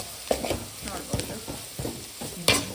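Cinnamon and cloves frying in a pan for a Mangalorean country chicken sukka masala, a close steady sizzle with repeated scraping stirs of a spoon against the pan.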